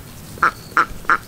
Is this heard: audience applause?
no